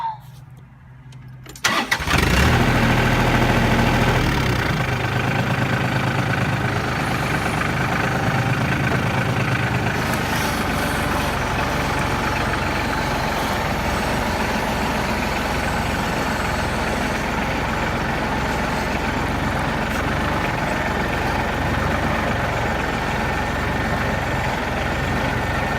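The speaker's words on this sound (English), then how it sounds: "now it's time to put the tractor away" A tractor engine cranks and catches after a quiet moment, then settles into a loud, steady diesel-style idle close by, rumbling continuously for over twenty seconds outdoors on a farm.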